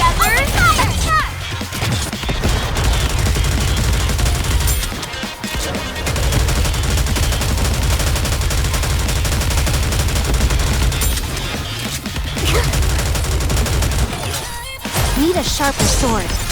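Cannon and rapid gunfire in a video game battle, a dense, loud barrage of shots and crashes with short pauses, mixed with shouted battle cries.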